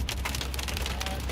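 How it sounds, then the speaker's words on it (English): Hail falls during a severe storm with twin tornadoes near Haskell, Texas, a dense, loud, continuous rattling patter of stones striking surfaces close by. "we definitely have hail falling right where they are"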